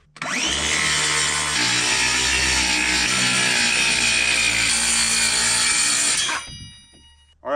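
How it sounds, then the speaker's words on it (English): A power saw cuts through plywood on an off-grid homestead, a loud continuous whining buzz for about six seconds that drops in pitch partway, then winds down and stops. "got our plywood cut"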